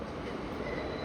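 A train arriving at a station in Northern Ireland, heard as a faint, steady low rumble of rolling rail noise throughout the brief moment.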